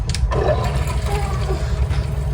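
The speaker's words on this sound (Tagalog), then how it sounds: "Butangan na itong init tubig." Hot water poured for instant noodle soup, a steady watery pour with a low rumbling roll running through the whole stretch, fairly loud and close, no talk over it.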